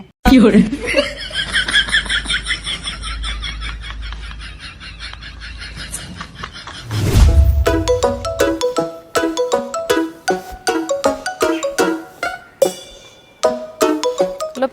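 An incoming call on a mobile phone rings out as a repeating tonal ringtone in short rhythmic bursts, loud and close, following a stretch of background chatter and laughter.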